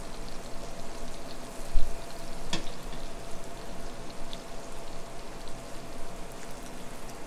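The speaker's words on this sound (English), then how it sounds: "these sage leaves are starting to fry in here as well" Butter melts as sage leaves fry in a pan, a steady close sizzle and crackle like light rain, with one brief clink partway through, no talk.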